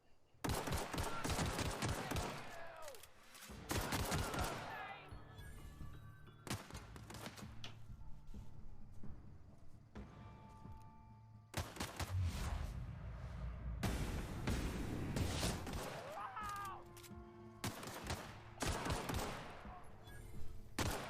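Gunfire in The Outer Worlds video game, repeated loud bursts of rapid shots and volleys spread across the clip, broken by short quieter gaps with faint background game sounds.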